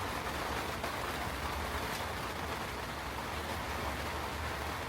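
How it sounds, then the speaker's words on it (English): Heavy rain falls steadily outside, a dense, constant wash of droplets that stays loud and unbroken from start to finish with no voices. "Sorry about the rain, it's probably a little loud"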